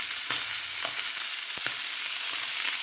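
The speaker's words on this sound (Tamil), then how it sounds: "இதை வந்து கொஞ்சம் கொஞ்சம் அப்படியே வேக வேக அப்படியே நம்ம ஃப்ரை பண்ணி பரட்டி விட்டுக்கிட்டே இருக்கணும்" Meat frying in a pan in a home kitchen in Paris, with fat spluttering in a steady hiss and scattered pops as it is stirred, loud and close, with no talking.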